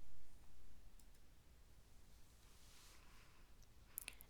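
A single sharp computer mouse click on an OK button lands near the end, brief and faint against a quiet room hiss.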